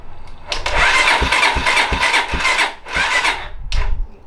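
A 1989 Honda NX250 motorcycle engine cranks with the choke mostly on but fails to catch, giving two long grinding starter bursts with a brief pause between, loud and close, with no voices.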